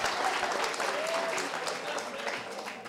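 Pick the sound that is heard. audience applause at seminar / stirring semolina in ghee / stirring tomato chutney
audience applause at seminar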